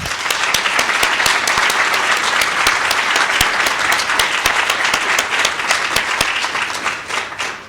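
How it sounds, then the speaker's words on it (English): Dense, sustained applause from an audience at a school recognition ceremony for National Merit Scholar semifinalists and their parents, loud and steady with many overlapping claps before easing slightly at the end. "Can we give a round of applause?"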